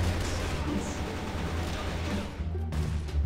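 Gunfire in the video game Crossfire rattles in dense, continuous bursts, loud and close, with a sharper crack near the end.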